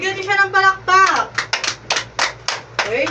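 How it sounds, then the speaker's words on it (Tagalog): Children in a Grade 3 classroom clap for a classmate, a burst of sharp, uneven handclaps up close, mixed with children's and an adult's voices talking over them. "Okay, bigyan niyo siya ng palakpak."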